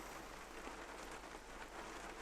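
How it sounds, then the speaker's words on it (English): Rain in the hunting video game theHunter: Call of the Wild, a steady faint hiss of falling rain with no other sounds. "that rain is annoying"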